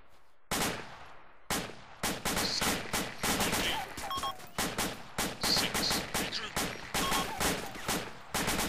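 Rapid bursts of automatic gunfire in a military shooter game, close and loud, with repeated volleys and brief gaps between them; no talk.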